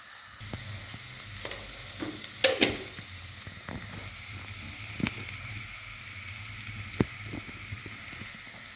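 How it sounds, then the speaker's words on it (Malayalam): Onions sautéing in a pan for a Malayalam-style fish curry, a steady low sizzle running throughout with a few louder stirring scrapes and clatters, close and without talk. "ഇത്തിരി വാടിയിട്ട് തക്കാളിക്ക് ഇട്ട് കൊടുക്കുക."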